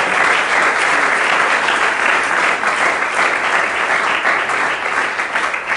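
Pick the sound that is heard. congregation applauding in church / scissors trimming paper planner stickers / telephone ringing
congregation applauding in church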